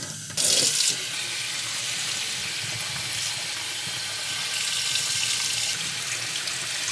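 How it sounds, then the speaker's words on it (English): Cold tap water runs steadily into a saucepan to rinse foam off meat for Swedish dill meat, a close, continuous splashing gush with a brief louder burst at the start. "clean the meat with cold new water and then put the meat in the other saucepan"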